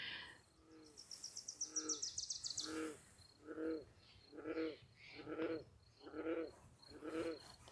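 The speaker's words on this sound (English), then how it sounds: "there's definitely a frog behind me." Repeated croaks from a single strange-sounding frog outdoors, evenly spaced pulses roughly once per second, fairly close and clear, with an insect-like trill at the start and no talking.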